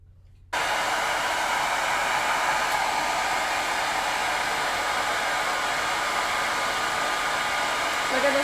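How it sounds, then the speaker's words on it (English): A blow dryer roars steadily and loudly, blowing air onto a homemade barometer after a brief quiet start, with a slight change in pitch near the end. "we're gonna go get a blow dryer"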